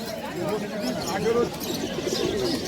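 Pigeons cooing at the Uluberia pigeon market, soft repeated coos mixed with chatter as people talk over them nearby.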